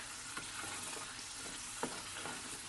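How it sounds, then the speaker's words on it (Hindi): Masala with carrot frying in a pan, a soft steady sizzle with a few stirring scrapes of a spoon against the pan, close but quiet. "ये देखिए मसाला मेरा भुन रहा है"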